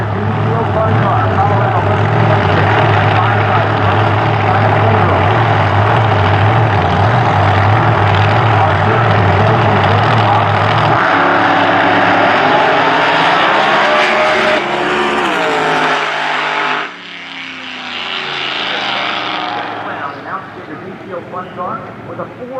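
A nitro funny car roars down the drag strip at Eddyville Raceway Park, a loud, sustained engine blast that shifts pitch partway through, then cuts off sharply before a fainter roar returns, with an announcer talking over it.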